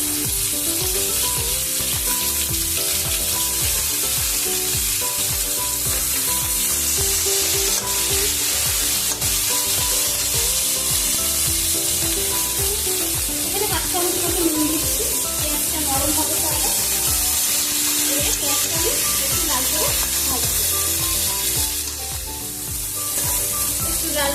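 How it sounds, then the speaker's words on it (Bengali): Chopped onion sizzles and is stirred in a hot pan while a crab curry is cooked, a steady bright frying hiss with scraping stirs throughout, under faint background music. "এর মধ্যে আমি পেঁয়াজ কুচিটা দিয়ে দিচ্ছি"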